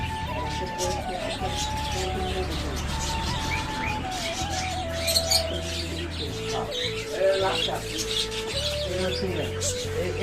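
Pet birds at a bird market in Bogura chirp and tweet in a busy, overlapping chorus, with someone talking under the calls.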